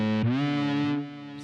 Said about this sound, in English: Distortion into flanger.